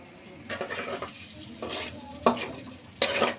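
Whole spices dropped into hot oil for Hyderabadi chicken dum biryani, sizzling and crackling in short bursts with stirring scrapes in between.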